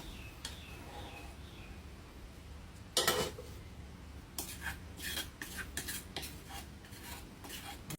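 Curry paste stir-fried in garlic-infused oil for Thai rice noodles with banana stem, heard as quiet scraping and rasping in a pan with a few sharper knocks and clatters.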